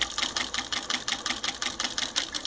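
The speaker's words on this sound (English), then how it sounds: "Terry cloth is one of the harder things to sew." A Pfaff 483 single-needle industrial sewing machine stitches through terry cloth, producing a rapid, even, rhythmic whir of needle strokes, loud and close with no talking.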